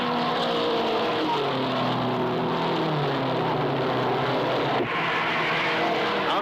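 A field of race cars at the 1961 Indianapolis 500, engines roaring together in a dense, continuous drone, with several pitches shifting as cars pass close, loud throughout and without speech.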